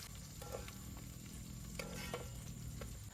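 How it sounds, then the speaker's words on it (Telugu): Tempering spices sizzle and crackle in a pan over a night campsite fire in a forest, a faint, continuous fry with occasional stirring clinks and no voices. "తాలింపు కూడా, పోపులు కూడా పెట్టేసాము."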